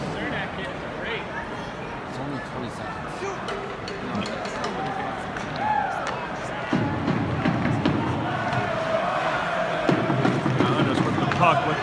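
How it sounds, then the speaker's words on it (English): Islanders fans cheer in a packed hockey arena at the Barclays home game against the Tampa Bay Lightning during a power play, a steady roaring crowd that swells louder partway through, with voices talking nearby. "Islanders fans are cheering."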